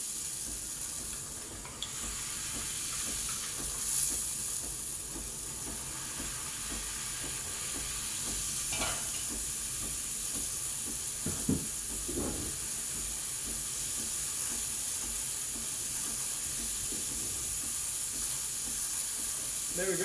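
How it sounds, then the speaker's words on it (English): Steady, strong hiss from the steam wand of a Breville Barista Express BES870 as it steams milk, with faint gurgling and bubbling, continuous and close for the whole stretch. "There we go, pretty strong steam."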